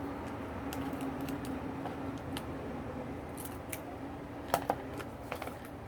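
Scissors cutting through tape while making a handmade envelope, a few quiet, close snips and light crisp clicks over a soft room hum.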